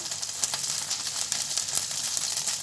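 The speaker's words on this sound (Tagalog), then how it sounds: "pan fry the tofu" Tofu pan-frying in hot oil gives off a steady, close sizzle with crackly pops, loud and unbroken throughout, and no one speaks.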